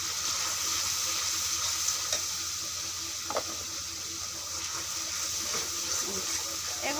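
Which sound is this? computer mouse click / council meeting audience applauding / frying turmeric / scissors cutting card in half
frying turmeric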